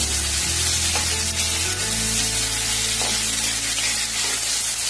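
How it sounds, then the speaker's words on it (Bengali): Onions sizzling in a hot pan, a steady close crackle with a low hum underneath and a few soft clinks. "এখন পেঁয়াজটাকে আমি ভালো করে ফ্রাই করব।"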